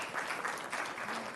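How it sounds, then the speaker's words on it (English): Brief hand clapping from the audience at a county board of supervisors business meeting, a short burst of many hands at moderate loudness. "Can we give Harris a hand clap, please?"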